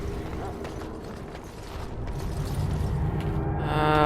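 A key turns in a lock in Dragon Age: Origins, heard as a short mechanical creak and clunk of the mechanism over a low ambient game drone, ending in a brighter swell of sound.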